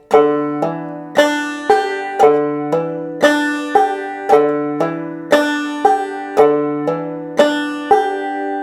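A clawhammer banjo plays a bright, plucked hammer-on pattern in steady eighth notes, each note ringing briefly before the next, clear and up close.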